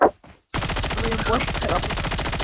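Sustained rapid machine gun fire in Call of Duty Mobile bursts in after a brief pause, dense and loud, with a voice briefly audible beneath the rattling shots.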